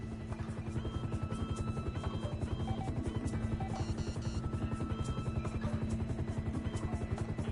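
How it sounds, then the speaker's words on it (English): Police helicopter in GTA V, a loud steady rotor chop with a fast even pulse and a low engine drone, running unbroken for several seconds with no talking. "Okay, I see the chopper."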